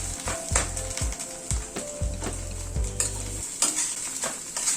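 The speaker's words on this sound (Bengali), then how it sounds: "বাঁধাকপিটাকে প্রায় মিনিট 5-6 সময় ধরে ভালো করে কষিয়ে নিলাম" Shredded cabbage being stir-fried in oil in a kadai for several minutes, with close, repeated scraping strokes of a spatula against the pan in an uneven rhythm over a soft continuous sizzle.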